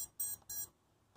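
A Jumper T16 radio transmitter fitted with an internal multi-protocol RF module gives two short, bright electronic beeps in quick succession, then falls quiet apart from a faint blip at the end.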